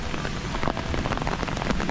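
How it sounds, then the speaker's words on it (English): Heavy rain pours steadily through a Swiss forest, a dense, continuous hiss of drops striking leaves and ground, close and unbroken with no voices. "it's raining heavily"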